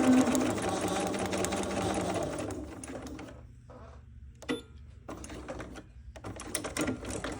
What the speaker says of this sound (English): I did take a little back stitch right there.